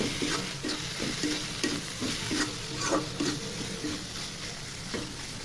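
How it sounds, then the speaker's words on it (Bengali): Goat brain masala is stirred and fried in a pan, with a constant sizzle under a steady rhythm of repeated spatula scrapes, close and fairly quiet, with no talking. "নেড়ে চেড়ে কষিয়ে নিব"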